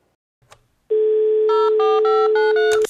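A landline telephone gives a brief click and then a steady dial tone, followed by a quick run of about six touch-tone dialing beeps. The tones are loud and close with no voices.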